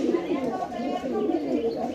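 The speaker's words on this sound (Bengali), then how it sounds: "এগুলো সব থরের কবুতর" Pigeons coo in low, soft, repeated warbles close by, a continuous throaty murmur from several birds.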